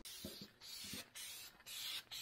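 An aerosol spray can fires in four short hissing bursts separated by brief pauses, each a bright, close spray sound, with faint scraping or clicking between them.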